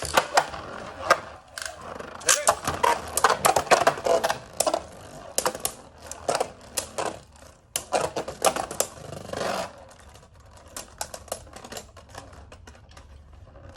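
Beyblade spinning tops, Zwei Longinus Drake and Union Valkyrie Blitz, launched into a stadium and battling, with a rapid series of loud sharp clacks and collisions that stop at the end, leaving near silence.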